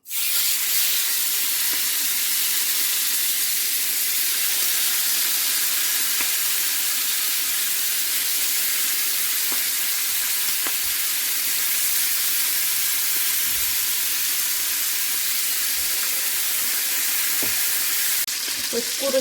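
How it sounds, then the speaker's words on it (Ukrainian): Marinated chicken sizzles and crackles loudly in a hot frying pan, a dense steady frying hiss with occasional sharp pops, no talking. "я тепер відправляю сюди обсмажиться замариновану курочку"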